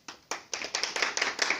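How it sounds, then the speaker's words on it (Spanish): A small group on a TV game show set claps for a contestant, a handful of sharp, distinct handclaps that start sparse and quicken into a brisk, close patter, with no talk. "Un aplauso para el Come Galletas"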